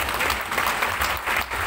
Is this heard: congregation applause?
yes